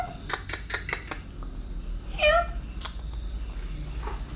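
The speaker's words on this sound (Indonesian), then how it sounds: "Ini kucing." A single rising cat meow sounds midway through a quiet indoor room, near a house kitchen. A few sharp ticking clicks come before it, and a faint short chirp follows.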